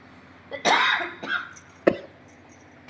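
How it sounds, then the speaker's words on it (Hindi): A person coughs in two harsh, close bursts, a longer one early and a short one later, with faint rustling between and no speech. "मैनूं खांसी बहुत हो रही है"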